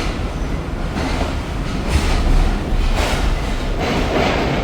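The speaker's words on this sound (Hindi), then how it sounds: "12:40 पर ट्रेन रवाना हो रही है रोड़ी जंक्शन से" A Shalimar Express passenger train departs Rohri Junction in Pakistan, a steady rolling rumble of railcars with rising surges of wheel and track noise, close and continuous with no talk.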